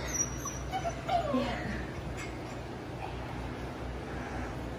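A puppy whimpers in a few soft, high yips near the start, fairly faint against a quiet room background.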